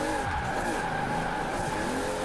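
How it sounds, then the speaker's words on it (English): A Toyota Supra drifting on race tires in Forza Horizon 4 during a long handbrake pull, a loud, sustained tire squeal over a steady engine drone, unbroken from start to finish. "That's a real long handbrake drag."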